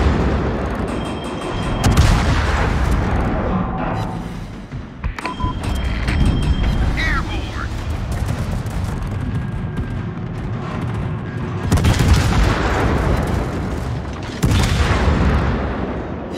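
In a naval combat game an enemy aircraft carrier is blown up amid heavy booming explosions and dense rumbling gunfire, loud and continuous, with sharper blasts flaring up twice.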